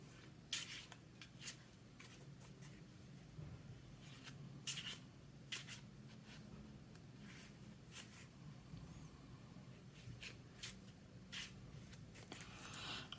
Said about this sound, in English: We have to shuffle for